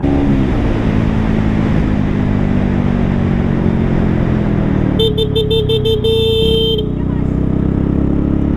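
A car horn sounds in a string of short repeated toots, then one sustained blast, over loud, steady engine and road noise.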